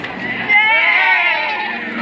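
A person whinnies in a high, wavering voice imitating a horse, one drawn-out call lasting over a second, fairly close and loud.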